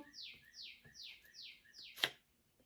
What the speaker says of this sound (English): You hear how loud that fucking bird is?